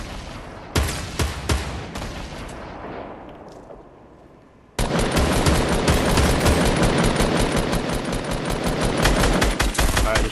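Automatic gunfire in the video game Fortnite bursts loud and rapid, a short volley fading out, then a sustained dense stream of shots that continues to the end.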